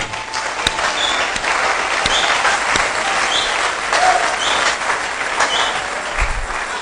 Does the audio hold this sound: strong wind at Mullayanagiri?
no